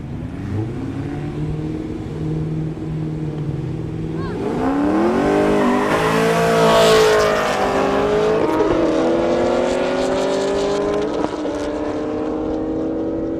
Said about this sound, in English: Devin coming up in a Supra. Brock Biddle in the Camaro right there.